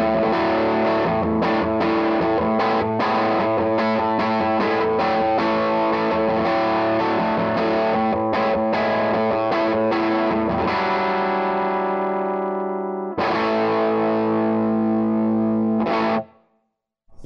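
Marshall Theatre Haze 40 combo guitar amp on its normal channel with the boost switched in, playing loud, overdriven strummed chords and sustained ringing notes for about sixteen seconds before the sound cuts off.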